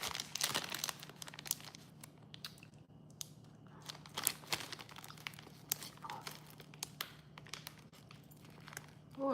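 A plastic bag of caramel candy crinkles and tears as it is unwrapped, with close, irregular sharp rustles and crunches, brief crackling bursts spread across the whole stretch.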